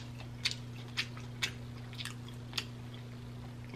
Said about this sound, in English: And then this crunch for these cucumbers.